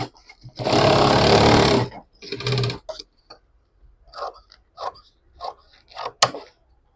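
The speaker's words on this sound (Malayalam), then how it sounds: "ഇനി നമ്മൾ ഇതിൻ്റെ ലൈനിങ് ഒന്ന് ജസ്റ്റ് സ്റ്റിച്ച് ചെയ്യാം" A sewing machine stitches the lining of a handmade bag made from a trouser pocket, running in one long loud burst and then a shorter one, followed by quieter intermittent handling sounds.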